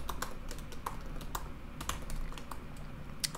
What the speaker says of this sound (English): So I'm gonna type window,